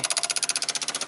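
ASD and fuel pump relays in a 1995 Ram V10 chatter rapidly and evenly, a close, steady buzz of about fifteen quick clicks per second with no voices.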